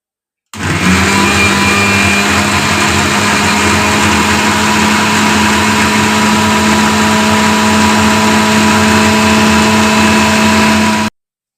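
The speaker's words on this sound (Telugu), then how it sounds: "ఇప్పుడు ఈ గుజ్జు ఎత్తుకు వెళ్ళి దాంట్లో వేసుకొని మిక్సీ పట్టించుకున్నాము" An electric mixie mixer grinder blends aloe vera gel with hibiscus leaves, its motor starting abruptly and then whirring in a loud, steady, close-up drone for about ten seconds before cutting off, with no talking.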